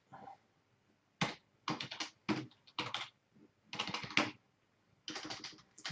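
Computer keyboard typing of HTML code comes in quick bursts of clattering keystrokes separated by short pauses, close and fairly crisp, with no talking.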